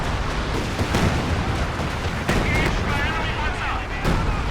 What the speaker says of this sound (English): they have the artillery and they're shooting at my position